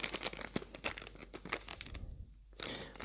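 Plastic bag that held gold-coloured clips crinkles and rustles up close in several quick bursts, with short crunchy crackles and a brief pause before another rustle.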